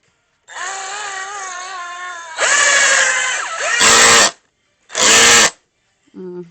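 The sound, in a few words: power drill drilling into wood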